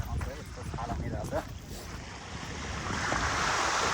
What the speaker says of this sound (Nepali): यस्तो छाल हानिरहेछ।